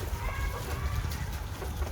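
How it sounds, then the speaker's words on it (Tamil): Chickens clucking in a farm chicken shed, a dense continuous murmur of many birds with steady low clucks and no single call standing out. "கோழிக்கான ஒரு ஷெட்டு தான் போட்டு வச்சுருக்காங்க"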